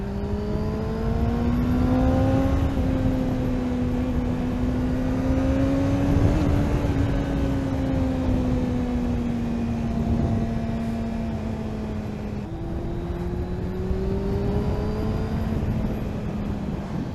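Kawasaki ZX6R Ninja J2 motorcycle on Michelin Road 5 tyres riding on a wet road, a loud steady engine drone with gentle rises and falls in revs and one brief gear change, wind rush throughout.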